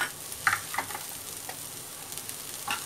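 Onions frying in ghee for a Konkani crab curry, a soft continuous sizzle close by, broken by a few short clinks and scrapes of a spoon against the pan.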